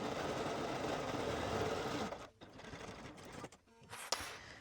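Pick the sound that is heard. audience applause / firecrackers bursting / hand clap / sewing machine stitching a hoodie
sewing machine stitching a hoodie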